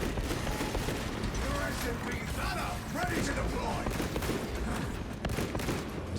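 Heavy bolt pistol shots from the game Space Marine, dense overlapping gunfire and combat noise with no pauses, loud and continuous under a mix of battle sounds.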